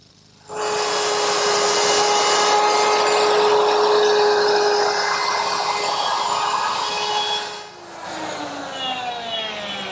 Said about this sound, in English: Now I'm going to change to a 1/4 inch bit and readjust the radius to cut the groove for the wall.